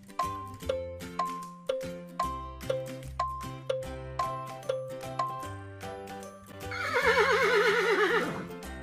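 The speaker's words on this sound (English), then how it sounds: "Horse." A horse neighing on a farm, a loud rising-and-falling whinny near the end that follows a steady sequence of chiming, tinkling musical tones with a plodding beat.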